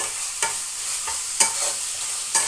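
Small chicken pieces fry in a pan over a low gas flame, giving a steady soft sizzle. A spoon scrapes through them about once a second, close up, with no voice.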